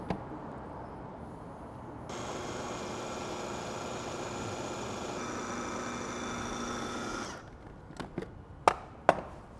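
A food processor blending hummus runs with a loud, steady motor whir for several seconds, then stops, followed by a few sharp knocks and scrapes as the sides are scraped down.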